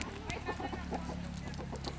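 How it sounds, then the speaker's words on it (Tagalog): Free-range chickens on a farm cluck softly in short repeated bursts against a low background murmur, fairly faint. "Ito yung mga manok nila."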